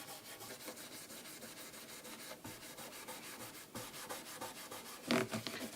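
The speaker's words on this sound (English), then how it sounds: "You get right up against the frets, so you make sure you get your oil over all of the wood." Fingerboard oil being rubbed into a guitar's wooden fingerboard close up to the frets, a steady soft scrubbing and rubbing of cloth on wood lasting several seconds, with a slightly louder burst of friction near the end.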